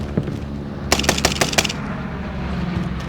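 An M1 Garand rifle in Call of Duty, set up as a long-range sniper loadout, fires a quick run of about five sharp, loud shots within a second, then drops back to a low hum of game ambience with no talk.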